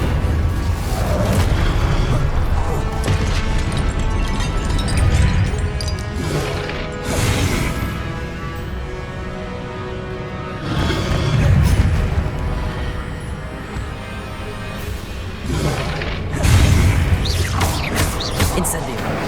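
Spell effects in the Hogwarts Legacy video game, including the Incendio fire spell: repeated heavy booms and crashes with whooshing bursts about every few seconds, loud and close over a dense, rumbling backdrop.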